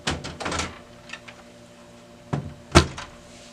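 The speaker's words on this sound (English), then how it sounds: "we're going to slide out the toner drums and toners" A drum drawer sliding out of a Brother MFC-9460 printer: a burst of plastic scraping and rattling, then quiet, then two sharp clunks near the end, close and fairly quiet.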